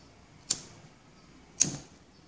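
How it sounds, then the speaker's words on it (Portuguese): A gas stove burner's igniter clicks twice as it is lit under a cooking pot, two crisp, close ticks about a second apart over a quiet background. "agora a gente vai acender o fogo"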